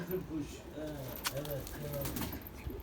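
Soft pigeon coos repeat in a low, rolling rhythm, close by, under a faint hiss of background noise.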